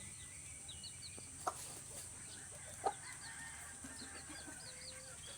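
Plump backyard pet chickens cluck softly and intermittently amid faint bird chirps and a steady background hum, with a couple of brief louder calls standing out.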